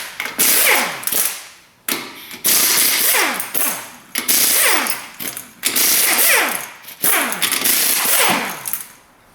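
An Astra Pneumatic Mini air impact wrench rattles off lug nuts on a Subaru Forester in loud, close hammering bursts, five or six separated by short pauses and air hisses.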